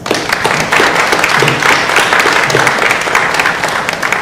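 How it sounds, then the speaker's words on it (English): Loud, dense applause from an audience at a stock exchange listing ceremony for a Malaysian solar company, steady and sustained throughout with no speech over it. "they deserve a huge round of applause"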